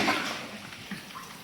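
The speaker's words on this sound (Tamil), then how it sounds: "கொஞ்சமாக தண்ணி சேர்க்குறேன்." Water poured into a pot of chicken gravy being cooked in a large batch, a brief splashing pour up close with no talking.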